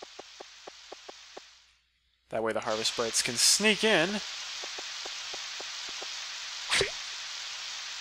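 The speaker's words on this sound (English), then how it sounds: "I like how the rain sound effect stops a little bit at 6 o'clock." Steady rain hiss from the Harvest Moon 64 video game runs beneath a voice, broken by a brief gap of near silence, with sparse ticking game sounds and a short blip near the end.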